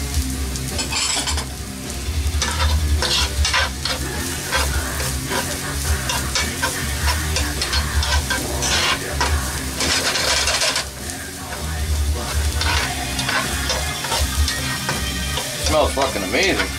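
Chopped onions and minced garlic fry in a pan with a steady, loud sizzle, broken by repeated scraping and clinking strokes of a utensil stirring them throughout.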